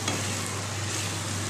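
Arvi (taro) masala sabzi being stirred and sautéed with spices in a pan, giving a steady, close sizzle with soft scraping of the stirring, no voices.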